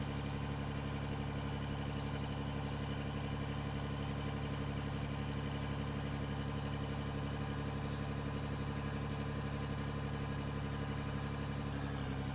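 A dumper truck's engine in the mining game Out of Ore drones in a steady, monotone hum, loud and unbroken throughout with no pauses or speech.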